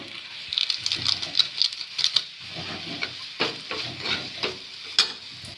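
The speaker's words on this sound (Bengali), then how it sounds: "ভালো করে ভেজে নেবো" Chopped vegetables for Maggi noodles sizzling in a hot pan while a spatula stirs and scrapes, with irregular clicks and taps over a steady frying hiss, close up.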